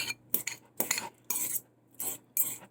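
An avocado mixture is stirred in a bowl with a utensil in quick separate bursts, metal clinking and scraping against the bowl close up with short pauses in between, no voice.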